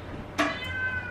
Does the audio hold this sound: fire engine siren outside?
no